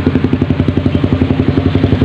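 A Honda CBR motorcycle converted from fuel injection to a PE28 carburetor idles close by with a steady, even, rapid thumping pulse throughout.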